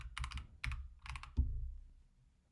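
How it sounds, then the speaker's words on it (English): Quick bursts of keystrokes on a computer keyboard, close and fairly quiet, a few short clusters ending with a heavier key thump and no speech. "To get started, you can type Lucas Studio."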